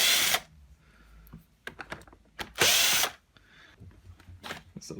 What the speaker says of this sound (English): Let's get this electric screwdriver on it and get these 3 screws off the side.